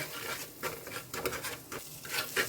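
Pepper powder and salt being mixed for caramel masala popcorn give a soft, close patter and scrape of brief stirring strokes, quiet and uneven, with no voices.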